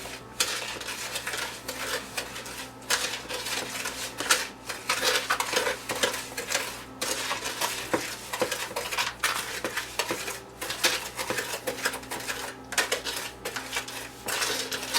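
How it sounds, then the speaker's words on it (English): Large spoon stirring a blueberry and white chocolate bread pudding mixture in a bowl, a steady run of clinking, scraping strokes at close range with no voices. "I'm just going to stir this up a minute"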